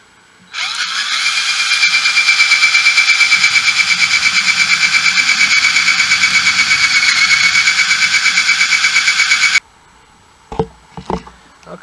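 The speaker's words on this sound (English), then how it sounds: "my next step is going to be to drill holes at each corner" A power drill boring holes at the corners of a wooden mast partner for a sailing canoe, one steady close whine running about nine seconds with a slight rhythmic pulse, then stopping, followed by a few light knocks.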